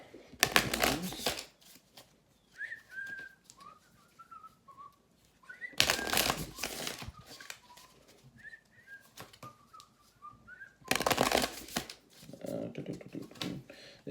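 Deck of tarot-style reading cards shuffled in three loud, fast riffling bursts, with soft talk or whistle-like tones in between.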